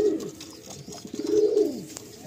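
Andhra pigeons in a loft cooing, two soft rolling coos close by, each rising and falling, with faint background noise and no speech.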